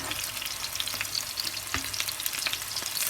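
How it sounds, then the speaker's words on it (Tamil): Millet-coated chicken frying in a pan over lowered heat gives a steady, dense sizzle and crackle throughout, close and fairly loud, with no talk. "அடுப்பை குறைத்து வைத்து பொரித்தெடுக்க வேண்டும்"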